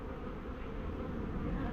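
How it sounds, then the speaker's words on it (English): Honey bees buzz steadily at the upper entrance of a double brood hive with a walkway split, a dense, continuous close-up drone with no talking. "that sneaky little bee went in there, look"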